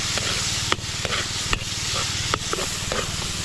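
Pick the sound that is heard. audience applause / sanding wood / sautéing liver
sautéing liver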